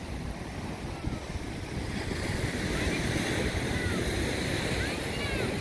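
Ocean surf rolls continuously at La Perouse Beach in Sydney, a broad, loud wash of waves mixed with heavy wind buffeting the microphone throughout.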